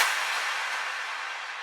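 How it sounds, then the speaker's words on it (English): Big reverberant clap impact effect, pitched one side left and one right, used as a drum accent in a beat chorus; a single loud hit that fades slowly through a long, bright, airy reverb tail. "So it's just like a big reverb clap sound."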